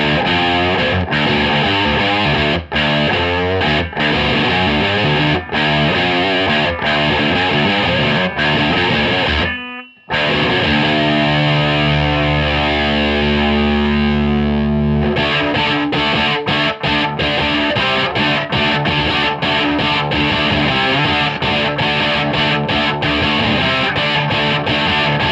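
An electric guitar through a Mooer Black Secret pedal in turbo mode chugs and rings through heavy, saturated riffs, loud and continuous, with a brief drop before a long sustained chord and more driving playing.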